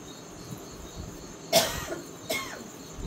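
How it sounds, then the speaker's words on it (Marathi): Two sharp coughs from one person, close and fairly loud, about a second apart, in a quiet indoor room. "तुला खोकला लागलाय बघ जरा."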